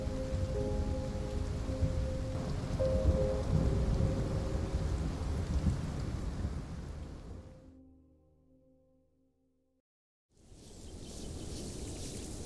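Heavy torrential rain pours down steadily with a deep thunder rumble, fades out into near silence for a couple of seconds, then the downpour abruptly returns.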